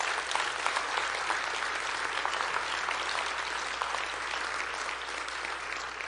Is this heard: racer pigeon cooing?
no